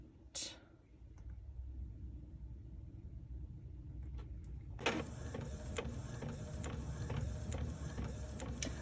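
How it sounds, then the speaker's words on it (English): Sublimation print for a tumbler running through a printer: a soft whisper-like sound and a few faint clicks, then the print head starts moving back and forth at about five seconds with a steady, repeating mechanical whir, close and quiet. "while the thing is printing"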